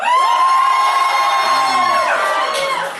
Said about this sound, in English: Can I get a cheer for genius?